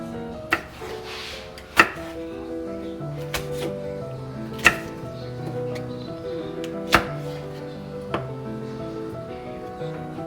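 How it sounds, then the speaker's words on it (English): A knife chopping a jalapeno on a cutting board in a home kitchen, a handful of sharp, irregularly spaced chops over soft background music. "Chopping a jalapeno."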